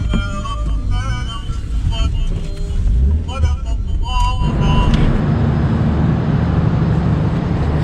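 Car ride back to a hotel in Iraqi Kurdistan, a steady road and engine rumble inside the vehicle, with talk and faint music early on before broadband road noise takes over.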